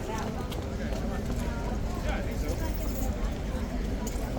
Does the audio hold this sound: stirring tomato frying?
no